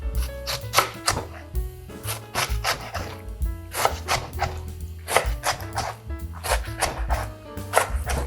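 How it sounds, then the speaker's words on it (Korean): Knife slicing kimchi stems thinly on a wooden cutting board, a fast run of rasping, thudding cuts repeating steadily and close. "꼭다리 이렇게 얇게 썰어 넣으세요"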